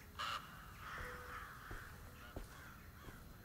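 Crow caws ring out inside the 2024 Alone in the Dark game, one loud harsh call near the start followed by fainter calls against a low dark ambient drone, with no one talking.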